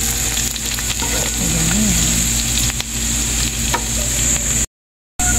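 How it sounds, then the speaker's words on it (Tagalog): Onion and garlic sauté in a pan for kare-kare, a loud, steady, close sizzle with light stirring, a brief spoken word and a high whine over it before a sudden cut to silence. "Isahin natin ang sibuyas, bawang."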